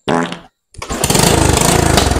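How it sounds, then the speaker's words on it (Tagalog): A motorcycle engine is started close by: a short burst of noise, a moment of silence, then the motor catches and settles into a loud, steady, throbbing run. "Ikaw magpandar kang motor."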